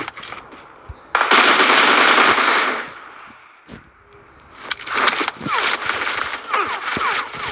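Bursts of rapid automatic gunfire in the video game PUBG, loud and crackling, in two long volleys separated by a quieter pause with scattered shots.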